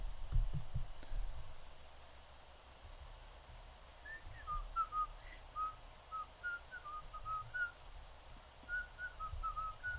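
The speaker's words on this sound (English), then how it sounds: "This guy's on the live stream whistling and ranting about nonsense." Someone whistles a thin, wandering tune of short notes over a steady low hum and hiss during a stock and crypto market live stream, fairly faint and without talk.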